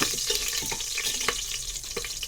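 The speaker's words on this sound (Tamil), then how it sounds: "இந்த பட்டை, லவங்கம், ஏலக்காய், பெரிய ஏலக்காய் எல்லாம் எடுத்து வச்சுருந்தது இந்த எண்ணெயில் போட்டுக்கணும் பொரியறதுக்கு" Cinnamon, cloves, cardamom and black cardamom fry in hot oil in a pan for Tirunelveli-style ghee rice, giving a close, steady sizzle with scattered pops and crackles.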